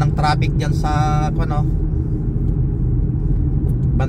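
Cars and other vehicles pass on a city road in Montreal in freezing winter weather, giving a continuous low rumble of traffic, while a person talks over it near the start.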